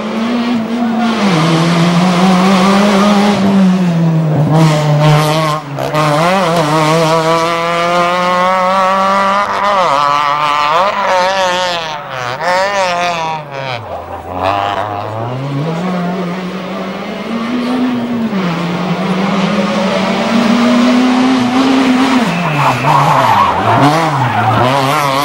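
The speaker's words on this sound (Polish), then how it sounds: "funkcję pilota pełni Malina Wiechowska, samochodem Renault Clio Williams." A Renault Clio Williams rally car at the 1996 Rally Poland races along a special stage, its engine loud and close, revving up and down through gear changes with brief tire skids.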